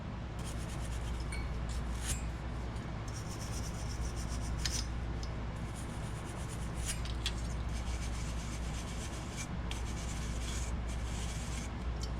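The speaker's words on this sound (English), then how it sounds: "get our soft bristle brush and go ahead and just clean out these fins real" A soft bristle brush scrubs the bent heatsink fins of a retro PC, giving a steady close scratchy rubbing with brief louder strokes throughout.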